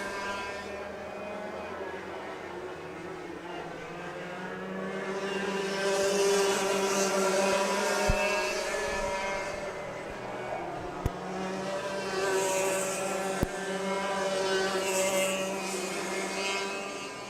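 PRD senior racing karts roar through a main event race at LAKC, with several engines whining together in a steady, droning stream that swells slightly midway, heard from nearby without commentary.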